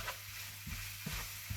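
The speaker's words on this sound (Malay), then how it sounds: "Kita kacau rata." A spoon stirs squid masala with turmeric and curry powder in a frying pan, making three soft scraping strokes over a quiet, steady sizzle.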